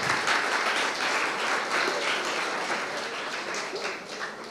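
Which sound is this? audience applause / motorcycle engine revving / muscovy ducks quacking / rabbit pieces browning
audience applause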